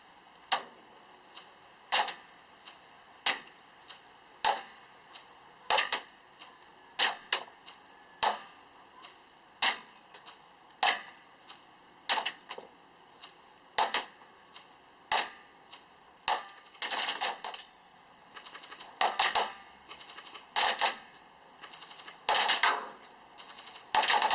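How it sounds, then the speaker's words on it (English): A G&G M4 airsoft rifle with electric blowback fires sharp single shots at a steady pace, then shifts to quicker bursts and short full-auto strings near the end, crisp and close with no talking. "We'll be firing both semi and full auto"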